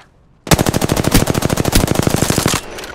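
A rapid burst of automatic gunfire from the Apex Legends video game, loud and close, with evenly spaced shots firing for about two seconds before stopping abruptly.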